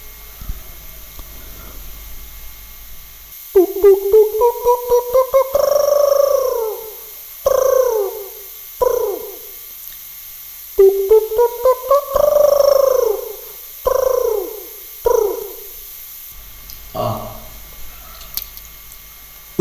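A voice imitates the cooing of a dove known as panduk, repeating soft, rounded hooting phrases in two series with short pauses between them.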